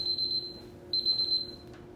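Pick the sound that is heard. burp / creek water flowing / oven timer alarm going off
oven timer alarm going off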